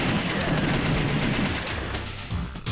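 Sustained rapid gunfire in The House of the Dead 2 arcade shooter, a dense continuous barrage of shots that stays loud and close throughout with hardly a break.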